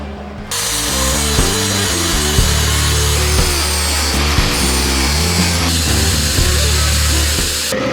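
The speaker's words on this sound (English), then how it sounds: "attempt to grind this back and make it look like something" A grinder works on the metal of a 1948 GMC running board with a loud, harsh, continuous whir broken by rhythmic rattling pulses as it bites the surface. It is close-up, with no talking.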